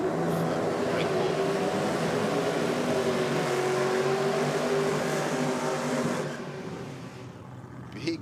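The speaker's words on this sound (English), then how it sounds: "Big burnouts from both competitors." Drag racing cars do burnouts at a championship meet, a steady distant roar of engines and spinning tyres that fades near the end, with a faint murmur of commentary beneath.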